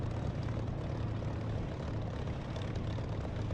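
Supermarine Spitfire engine droning steadily in the DCS flight simulator, a continuous propeller-engine hum heard from the cockpit, moderately loud and even throughout, with no voices.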